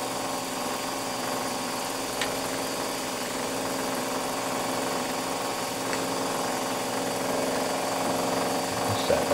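A Warco WM180 lathe runs a cutter at 1300 RPM, giving a steady, continuous motor whine and hum with a couple of faint ticks, close and unbroken throughout.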